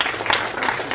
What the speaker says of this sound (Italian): Bene, un applauso.